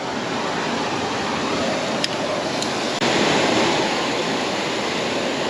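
A 30-foot waterfall roars in a steady, dense broadband rush close by, with a couple of faint brief clicks partway through and no voices.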